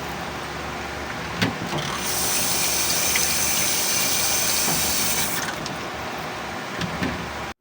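Tap water runs onto vegetables being washed, a steady splashing hiss that swells in the middle, with occasional knocks and clatters nearby.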